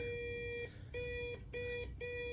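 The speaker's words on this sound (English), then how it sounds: "So it's a beeper and a light. Makes a bibbing noise." A continuity tester's beeper sounds while ignition points are checked on a BSA A10 650cc with a Lucas K2F magneto, giving four steady electronic tones separated by short gaps, clear and alone.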